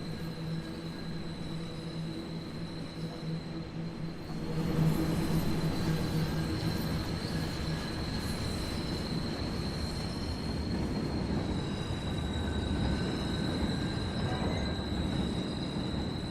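Passenger carriages on the Arosa line in a train simulation game roll along steadily, a dense rumble of wheels and car noise that swells louder after the first few seconds with faint high squeal tones, no voices.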